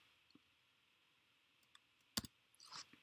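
A couple of sharp clicks on a computer keyboard, one crisp keystroke followed by a brief rattling press like a space bar, close and isolated in a quiet room.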